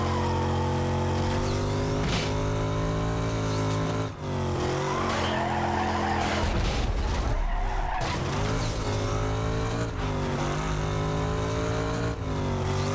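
Race cars in Need for Speed Carbon roar with a loud, sustained engine drone, with revving shifts and tires squealing in a skid, and the game audio stays dense and constant with no talking.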